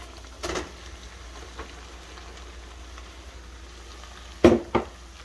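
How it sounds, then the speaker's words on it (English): Cooked rice dumped into a hot frying pan for country fried rice, a soft sizzle under a low hiss, with a brief thump early and a louder pair of scraping, sliding thuds near the end; no talk. "dump our rice in"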